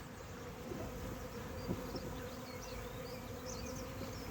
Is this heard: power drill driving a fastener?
no